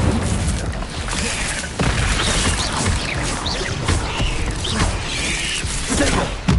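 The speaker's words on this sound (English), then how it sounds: "Incendio!" The Incendio fire spell in Hogwarts Legacy on PS5 goes off with loud whooshing bursts and crackling impacts amid busy combat noise, several surges spread across the stretch.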